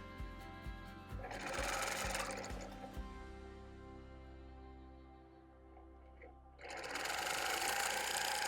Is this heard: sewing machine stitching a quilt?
yes